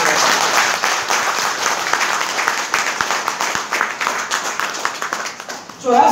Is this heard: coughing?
no